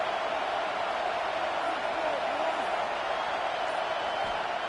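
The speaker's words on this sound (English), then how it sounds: "Listen to the crowd energy here in the early going." Stadium crowd noise in a college football video game, Tennessee versus Florida, a steady, dense wash of distant cheering and roar with no breaks, filling the background evenly.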